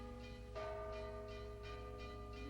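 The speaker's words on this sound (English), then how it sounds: "Suddenly, it's the warning bell. That bell means that a wolf is coming." A warning bell rings out to signal that a wolf is coming, struck in a regular series of about seven sustained, resonant tones over a steady background hum, with no voices.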